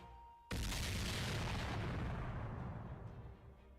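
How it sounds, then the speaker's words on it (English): A single loud explosion erupts suddenly in the Samurai Remnant video game, a heavy boom that rumbles and slowly decays over a few seconds, heard alone without talk. "An explosion!"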